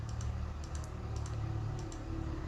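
Steady typing on a computer keyboard during PHP and MySQL coding work, with close, quick key clicks coming in small bursts over a low background hum.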